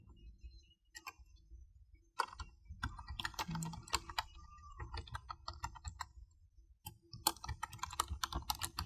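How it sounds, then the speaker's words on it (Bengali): An email address typed on a computer keyboard to sign up on a deployment site: close, fairly quiet key clicks in uneven bursts with brief pauses, no talking. "আমি আমার একটি ইমেল অ্যাড্রেস দিয়ে আমি এখানে দিয়ে দিচ্ছি সাইন আপ করার জন্য"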